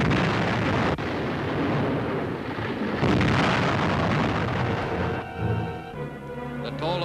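Explosions tear through the burning US aircraft carrier USS Franklin in the Pacific: a dense, continuous roar with a sharp burst near the start, easing later into a lower rumble.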